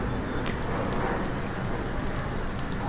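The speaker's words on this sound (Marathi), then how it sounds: "दुसऱ्या बाजूने देखील झाकण ठेवून एक 3 ते 4 मिनिटं कमी आचेवर आपल्याला फ्राय करून घ्यायचं" Cabbage omelette, made like a Spanish omelette, frying on its second side in a covered pan over low heat: a steady, even sizzle runs throughout with no talking.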